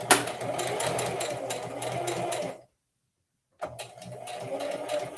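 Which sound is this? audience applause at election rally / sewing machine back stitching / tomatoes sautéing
sewing machine back stitching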